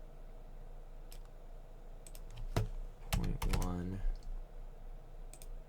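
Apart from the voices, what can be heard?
mouse clicking and keyboard keys while modeling in Maya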